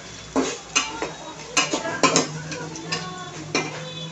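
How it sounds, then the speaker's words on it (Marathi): Chhole masala sautéed in a pressure cooker over a high gas flame, with repeated metallic scraping and clinks of a spoon against the pot over a faint low sizzle. "10-15 सेकंद फक्त हे परतायचं, कारण हाय फ्लेमवरती आहे गॅस"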